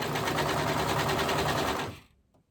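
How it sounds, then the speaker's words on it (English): A serger sewing machine running on after finishing a seam on pajama pants, a fast rhythmic mechanical whir that is close and steady before cutting off abruptly near the end. "the beauty of a serger is, even when you are done sewing, you can just keep going"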